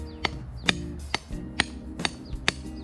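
Sharp impacts from hammering on a foundation pile at a building site, about six evenly spaced loud strikes with ringing metallic overtones over a steady low rumble.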